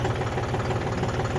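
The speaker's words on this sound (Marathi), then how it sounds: "बघू शकता इतक्या कमी स्पीडने ट्रॅक्टर चालतोय." A John Deere 5050D tractor engine runs at low speed, a close, steady low rumble with a fast regular chugging pulse and no voices.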